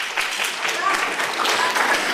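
Sustained audience applause at a public address by a political speaker in Zurich, dense even patter of many hands throughout, fairly loud and steady with no voice on top.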